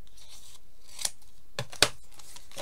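Scissors snip paper while making a card, giving a few short, sharp cuts spaced apart over a quiet room background.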